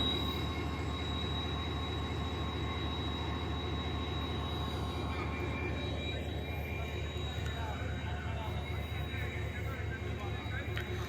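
The Millat Express passenger train departs Khanewal Junction station with a continuous heavy rumble and steady rhythmic wheel clatter, voices murmuring faintly in the background.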